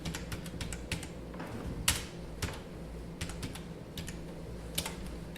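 Steady typing on a computer keyboard while filling in a spreadsheet, a run of quick, light key clicks with a few sharper taps, close and quiet with no talking.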